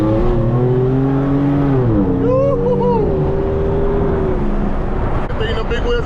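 A Ford Mustang's engine revs on a Texas highway among lifted trucks and sports cars, a loud, continuous, close-up roar that climbs and falls in pitch under steady traffic noise.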